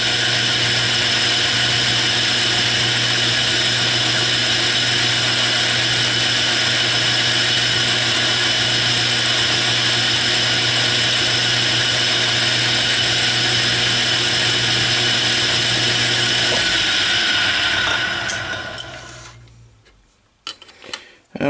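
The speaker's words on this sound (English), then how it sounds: "Okay, the next step is the center drill." Metal lathe running a center drill into a workpiece for an expanding mandrel, a steady loud mechanical whine and hum held for about eighteen seconds before spinning down and stopping.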